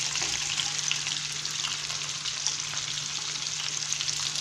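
Whole chicken breast and finely chopped onion fry in a pan, a steady close sizzle with scattered crackles running unbroken throughout, no voices.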